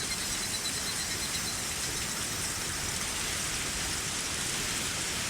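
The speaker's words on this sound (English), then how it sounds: "Wow, that rain really is coming down." Rain falling in the video game Higurashi, a dense and constant downpour heard as an even hiss with no breaks.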